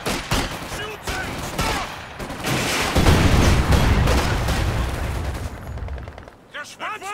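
Dense gunfire and explosions from the World War II strategy game Company of Heroes 2 form rapid, overlapping bursts and booms throughout, with in-game voices calling out over the battle.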